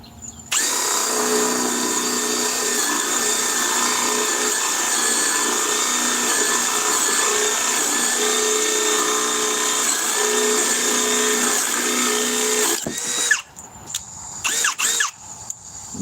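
A not-very-sharp drill bit bores into thick wood beside a knot with a long, steady, high-pitched whine and squeal that stops abruptly after about thirteen seconds, followed by a few short clatters.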